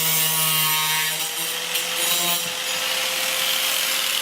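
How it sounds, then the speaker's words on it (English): An angle grinder cuts down a piece for a bathroom fan, a harsh continuous high-pitched grinding whine with a steady tone that shifts slightly partway through, close and alone without speech. "grabbed the angle grinder, and made sure I brought it today. So I'm gonna cut this piece down."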